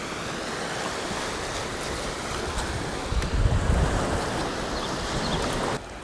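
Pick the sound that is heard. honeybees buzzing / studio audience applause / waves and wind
waves and wind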